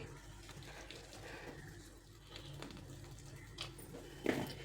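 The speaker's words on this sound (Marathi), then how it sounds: "त्यातील सर्व पाणी काढून घ्यायचे" Soaked soybeans are squeezed by hand to press out their water, giving quiet trickling and splashing with a few small wet bursts near the end.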